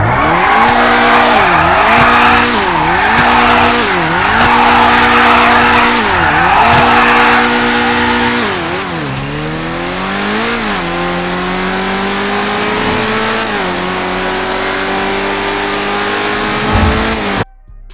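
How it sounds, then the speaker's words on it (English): Tropos Rallye car in GTA Online, its engine revving up and down in repeated wavering pulls, then holding a long rising drone while tires skid and squeal loudly throughout, close and without speech. "I'm now going to talk about the sound of the car."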